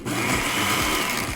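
A kitchen blender whirs at high speed as it blends lime juice, onion and garlic. The motor gives a short, loud, steady burst with no voices.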